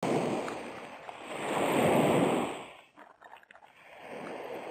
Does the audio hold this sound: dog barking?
no